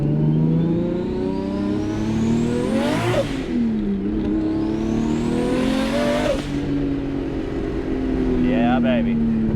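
A 1999 Nissan Skyline GT-R R34 V-Spec engine revs hard twice, each climb rising sharply in pitch then dropping back to a rumbling idle, loud and close, with a brief third blip near the end.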